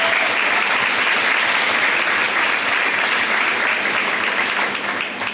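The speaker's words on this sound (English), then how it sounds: "big round of applause if you would." A county fair queen contest audience gives a big round of applause, dense and loud throughout and easing slightly at the very end.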